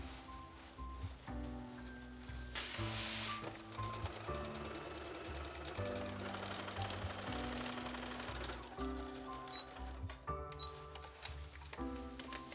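A sewing machine running a basting stitch through layered fabric, with a steady, close mechanical ticking and whirring that continues throughout, pitch shifting slightly as the speed varies.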